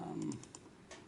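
Computer keyboard typing, a quick run of soft key clicks, faint and close, with no talk.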